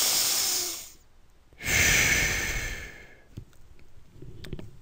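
A close, loud breath drawn in, then after a short pause a long audible breath pushed out, followed by softer faint breathing and small mouth noises, with no talk.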